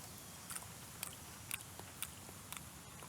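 Close, crisp crunching bites of termites repeat at a steady rhythm about twice a second, short and sharp against a quiet background.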